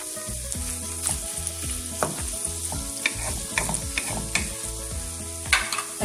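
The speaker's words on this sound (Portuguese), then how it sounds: "E ele acaba fritando também na própria gordura." Steady, crackling sizzle of sausage and bacon frying in their own fat in a pan, continuous and close, with occasional sharper pops and a low musical hum underneath.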